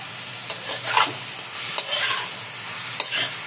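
Pork fries in oil for pork humba, a steady close sizzle with occasional scraping stirs and spatters, no talk.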